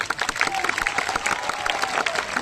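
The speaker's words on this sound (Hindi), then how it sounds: "ताली बजाओ" A crowd at a large live religious gathering claps in a dense burst of applause, close and sustained, with faint voices beneath.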